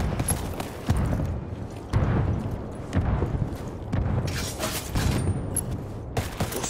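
Gunfire in Ghost Recon Wildlands, a fusillade of repeated shots and impacts crackling at steady loudness through the whole stretch, with bursts peaking every second or so.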